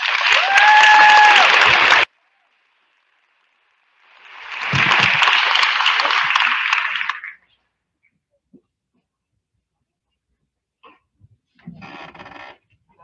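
An audience at an 8th grade promotion ceremony breaks into two loud bursts of clapping, each lasting a couple of seconds and separated by silence, followed later by a shorter, fainter patter.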